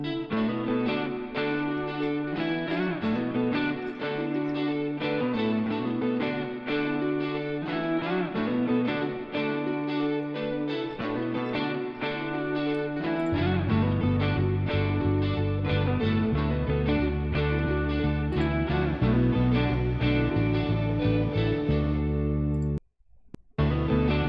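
Distorted electric guitar layered with an octave line in a Logic session, a dense chorus-and-echo-soaked texture that deepens and thickens in the second half, then cuts out briefly near the end.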